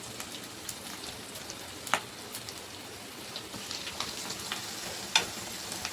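Curry leaves and dried red chillies tempering in hot oil for home-made Madras-style sambar, a steady crackling sizzle with a few sharp pops, close and fairly quiet, with no talking.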